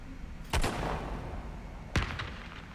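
A flare gun fires twice in the VR game The Gallery: Call of the Starseed, two sharp, bright cracks about a second and a half apart over a low, quiet background.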